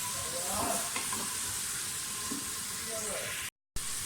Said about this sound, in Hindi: थोड़ा सा प्याज डाल दें, थोड़ा सा फ्राई करें